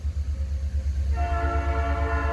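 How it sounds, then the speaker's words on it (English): Norfolk Southern freight train rumbling steadily past, low engine drone throughout, then a loud sustained multi-tone horn blast joins about halfway and holds to the end, with no talk. "There she is, the train."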